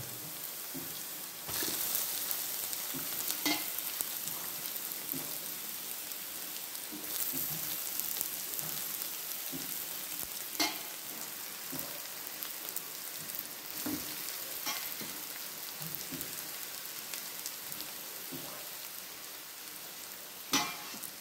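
Vegetables frying in a pan with onion already browned, a soft steady sizzle close by with occasional scrapes and clicks of a stirring spoon scattered through.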